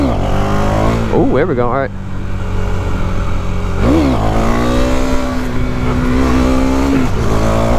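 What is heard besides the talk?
KTM 390 Duke motorcycle engine revving, clutching up a wheelie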